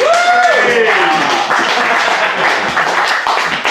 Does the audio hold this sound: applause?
yes